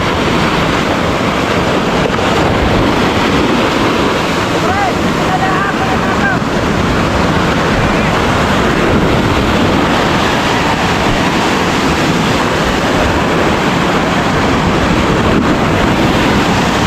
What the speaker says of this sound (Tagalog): Ano, lakas pa rin ng alon.